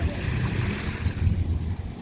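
Wind and waves at Sandy Beach: a low, rolling rumble of surf mixed with gusty wind buffeting the microphone, steady and fairly loud throughout two seconds, no voices.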